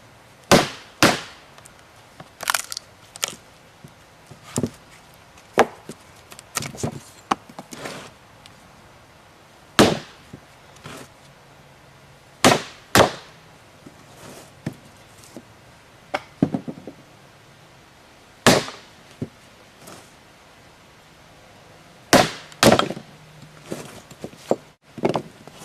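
Sharp, separate knocks and chops at irregular intervals as a knot hole is cut out of a piece of carving wood for fan carving, loud and close with quiet gaps between strikes.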